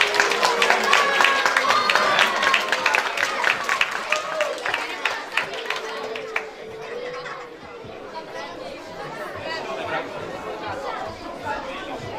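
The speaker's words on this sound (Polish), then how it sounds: "ci co są na trybunach, wielkie brawa dla naszej najmocniej grupy" Spectators in the stands at a youth sports club's St. Nicholas Day event clap in a loud, continuous round of applause mixed with crowd chatter, fading to quieter murmuring halfway through.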